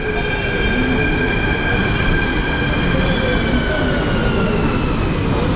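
A metro train rumbles loudly and steadily nearby, a deep rolling roar with a high, whining electric hum laid over it.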